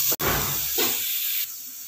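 Chopped onions dropped into hot ghee in a pan, giving a loud sudden hiss that sizzles steadily close by, then eases down to a softer sizzle.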